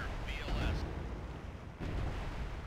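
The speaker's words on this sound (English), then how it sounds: "let's go ahead and shoot it with one more missile" Anti-ship missile launched at a surface vessel in the naval game Cold Waters, a low rumbling roar with a sharper burst partway through, under a faint background tone.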